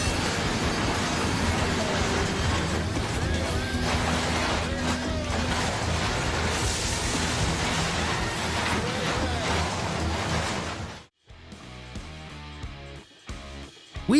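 A train runs along a railway in Baku, with a loud continuous rumble and rattle of wagons for about ten seconds, then an abrupt drop into quieter, irregular clanks and knocks.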